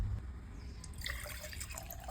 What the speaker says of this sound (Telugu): గ్లాస్ జార్లో వాటర్ పోసి